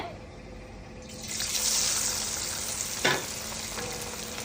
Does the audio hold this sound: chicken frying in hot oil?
yes